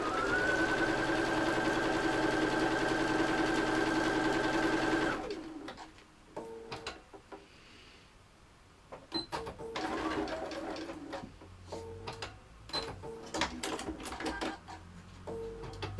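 An electric sewing machine runs steadily for about five seconds, stitching a quarter-inch seam on a fabric bunny head, then stops, followed by quieter handling clicks and fabric rustle.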